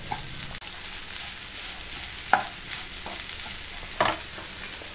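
A banana flower and green gram stir-fry (thoran) is stirred in a pan, with a steady sizzle under scattered scraping clicks of the spoon, a few sharper taps standing out near the end.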